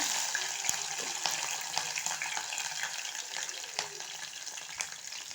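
Green chillies sizzle in hot oil with cumin and mustard seeds, a steady close crackle with scattered sharp pops and spits throughout.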